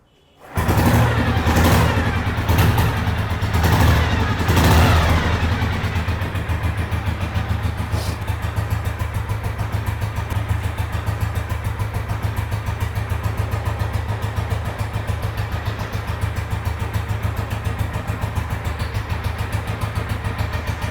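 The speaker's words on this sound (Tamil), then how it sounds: "இப்போ நான் இந்த வெஹிக்கிளை ஸ்டார்ட் பண்ணி காமிக்கிறேன்." A vintage motorcycle engine is started, revving in a few bursts before settling into a steady, loud idle that runs on unbroken, close up, with no talking.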